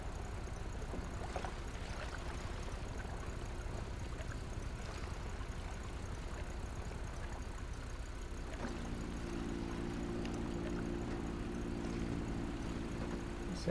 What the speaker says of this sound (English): Oh, that's a plane.